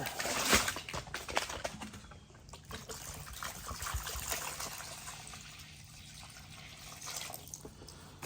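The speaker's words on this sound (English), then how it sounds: "Let's give them a little water here." Water is poured out for chickens inside a low tunnel in December, a moderate trickling, splashing pour close by with a brief sharper splash near the start, with no talk.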